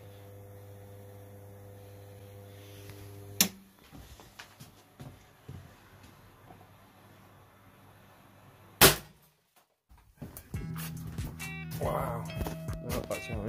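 Two sharp, loud bangs from a 20 kV, 15 kJ EMP machine's capacitor discharges ring out several seconds apart over a low electrical hum, followed by clattering and shuffling noises.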